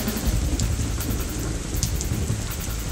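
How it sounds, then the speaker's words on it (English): Heavy rain from a thunderstorm in Washington pours steadily and close, a constant hiss with a low thundery rumble running underneath it. "This is the biggest freaking storm I've seen in like years."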